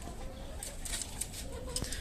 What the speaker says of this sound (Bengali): আর এই হচ্ছে আপনার মোরগ আর মুরগি